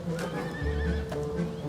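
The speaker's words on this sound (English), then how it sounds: "She plays recorded horse talk and observes the response." Horse neighing and whinnying played from a recording, a drawn-out whinny with fluttering calls and a low snort, loud and close, no talk.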